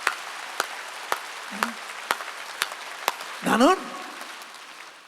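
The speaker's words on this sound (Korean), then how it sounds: "깨달아서 박수 치라고. 박수." A church congregation at a revival meeting in Gunsan claps together in a steady, evenly spaced rhythm of sharp single claps. A voice speaks briefly partway through.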